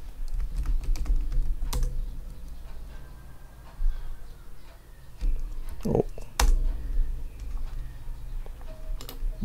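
Typing a password on a computer keyboard, a run of quick close key clicks in uneven bursts with a few louder taps, under faint background hum.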